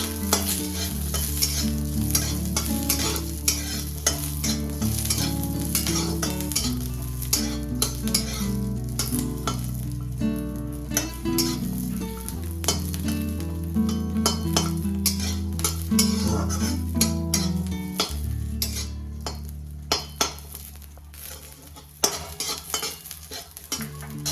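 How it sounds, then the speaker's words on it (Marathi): Garlic frying in a little oil for a sesame chutney, a steady close sizzle with frequent stirring clinks from a spoon against the pan, running continuously with no talking. "थोडंसं तेल टाकू आणि थोडासा लसूण तळून घेऊ"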